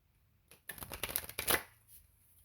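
A quick burst of tarot cards being shuffled close up, a rapid papery riffle lasting about a second in an otherwise quiet room.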